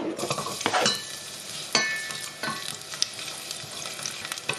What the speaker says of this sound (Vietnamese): Trước tiên là phi tỏi.